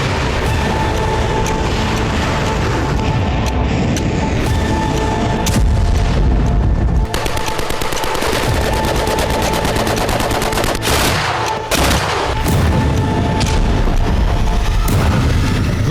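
Russian military strikes in Donetsk, Ukraine, bring dense, loud gunfire with rapid machine-gun bursts and heavy booming explosions. The barrage is continuous and almost unbroken.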